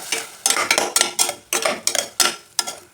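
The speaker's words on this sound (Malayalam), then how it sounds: "ഇനി ഇതൊന്ന് ഇളക്കി കൊടുക്കാം." A spoon stirs paneer curry with ground onion-tomato paste in a pan, giving repeated scraping, clinking strokes in a steady rhythm, close and fairly loud with no voices.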